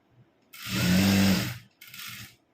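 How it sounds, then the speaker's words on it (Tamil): Sewing machine stitching a gathered pant seam, a close steady motor whir for about a second, a brief pause, then a second shorter burst of stitching. "இப்போ 2 ஃப்ளீட் வச்சுட்டு நான் ஸ்ட்ரைட்டாக தைக்க ஆரம்பிச்சிடுறேன்"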